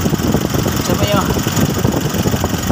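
A Nissan NV350 van engine idles steadily after its EGR valve and throttle body were cleaned, a close, even low rumble throughout with faint voices in the background.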